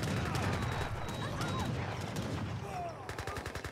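Rapid game gunfire from Gatling camels in Age of Empires, a dense continuous rattle of shots with chaotic battle noise, ending in a quicker pulsing burst of fire.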